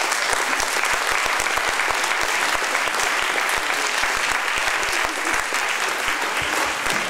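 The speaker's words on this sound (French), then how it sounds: "Je vous demande de les applaudir très très fort." Sustained audience applause fills a French youth-day gathering, a dense, steady wash of many hands clapping loudly and evenly for the whole stretch without a break.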